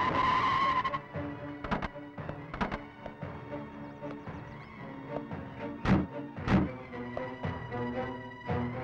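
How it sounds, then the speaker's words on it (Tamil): A car brakes to a stop in a film scene, its tire noise and sharp transients mixed over a steady music score with no speech. "நிறுத்த வண்டிய."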